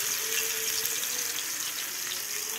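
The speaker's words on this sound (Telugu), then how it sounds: "సిమ్లో పెట్టుకొని ఫ్రై చేసుకోవాలి ఇవి" Pieces of fish fry gently in a pan over a low flame, giving a soft, steady hiss and light crackle at modest volume, alone and without talk.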